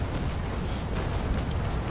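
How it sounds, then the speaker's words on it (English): Frigate cannon broadside fired in the age-of-sail game Naval Action, a heavy, sustained booming roar filling the whole moment, loud and near, without speech. "All the cannons reloaded, beautiful, getting ready, and fire."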